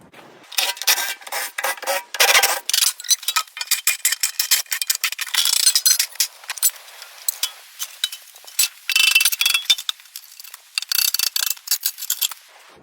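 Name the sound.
socket wrench removing nuts from Weber grill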